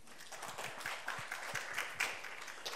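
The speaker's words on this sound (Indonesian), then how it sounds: "Boleh tepuk tangan bagi Tuhan, saudara?" Congregation at a church service clapping, a faint scattered patter of hand claps lasting a few seconds, somewhat distant.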